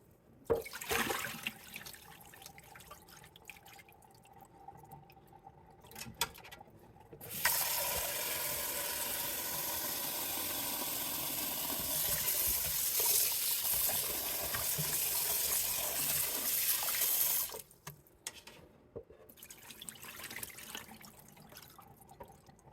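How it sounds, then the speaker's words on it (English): Running tap water rinsing cubed yam, a steady broadband rush lasting about ten seconds, framed by quieter handling clatter before and after. "Wash the yam."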